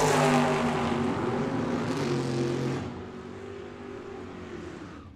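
A drag racing car runs at Tucson Dragway, its loud engine roar dominating the first few seconds before dropping away into a fainter, receding drone.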